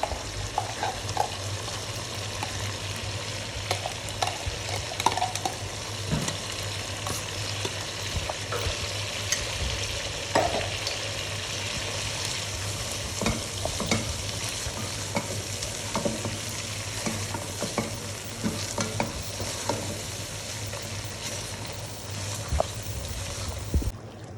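Blended spice paste is added to chicken frying for butter chicken, giving continuous close sizzling and crackling. Stirring and scraping sounds run through it, with no talking.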